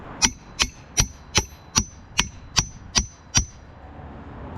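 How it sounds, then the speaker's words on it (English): Nine sharp hammer blows ring out at a steady rhythm on a steel pulley being driven off a Kohler Courage small engine, each strike loud and close with a metallic clang, then a short quiet tail. "I'm beating up this pulley, but you can see a little separation right there."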